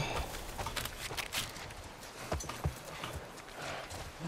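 Horse hooves clip-clopping in the video game The Last of Us Part 1, a quiet, steady run of hoof beats with faint ambient background and no speech.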